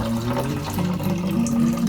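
A tap aboard a boat runs water in a steady, close, continuous splashing stream that lasts about two seconds.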